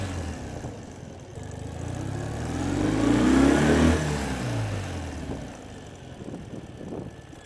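A flat black 2018 Ural Retro M70 sidecar motorcycle pulls away and picks up speed, its engine note rising and swelling to a peak before easing off. Nobody talks.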